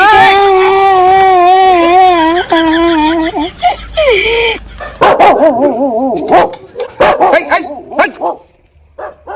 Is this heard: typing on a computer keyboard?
no